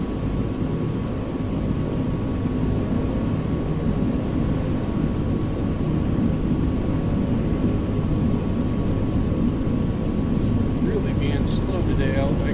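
A propeller aircraft engine drones through the takeoff run in Microsoft Flight Simulator 2020, a loud, steady low rumble with a constant whine running evenly throughout.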